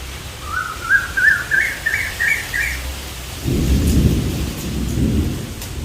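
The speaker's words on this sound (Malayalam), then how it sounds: "ഓ, കാറ്റും മഴ." Steady wind-driven rain hisses while thunder rumbles in from about midway, deep and rolling; a bird chirps a rising series of short notes early on.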